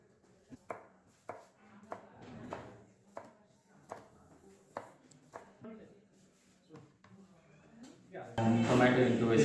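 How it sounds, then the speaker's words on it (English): Knife slicing cucumber on a cutting board: a series of crisp, evenly spaced chops about every half second, close and clear, before a voice begins talking at the end. "Cucumber into slice cut."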